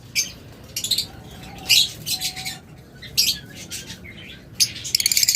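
Several high-mutation pet birds at a bird farm give short bright chirps in scattered bursts, with a quicker run of repeated tweets near the end, over a low steady background rumble.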